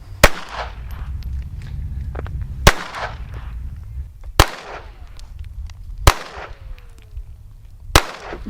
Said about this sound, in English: that's when the gun's going to go bang